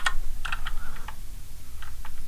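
Bursts of keystrokes on a computer keyboard, clustered taps with short pauses between them, close and fairly quiet against a low background hum.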